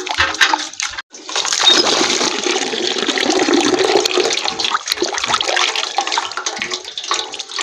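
Dirty aquarium filter rinsed under running water, a steady loud gush of water splashing over it, briefly interrupted around one second, then continuing strongly to the end with no talk.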